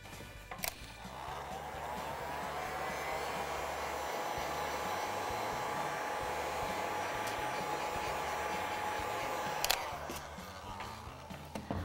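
Hair dryer blowing steadily to dry paint on a wooden cookie jar lid, a continuous close whir and hiss that starts and stops with clicks.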